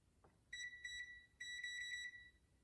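A multimeter in continuity mode gives two short, clean electronic beeps, the second longer, quiet and close against a faint background hiss.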